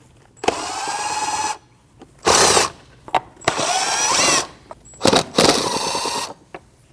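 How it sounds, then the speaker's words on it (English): A power drill or driver whirs in several bursts, winding up and down, while removing the four 8mm bolts from the air cleaner box on a 2013-2019 Ford Escape with the 1.5L L4 engine, close and loud with short pauses between runs. "Your air cleaner box has 4 8mm bolts. You need to remove those."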